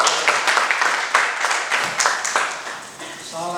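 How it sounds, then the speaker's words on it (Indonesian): An audience at an anti-corruption briefing session in Barito Kuala applauds the KPK, a burst of clapping that fades toward the end as a voice begins speaking. "Tepuk tangan untuk KPK."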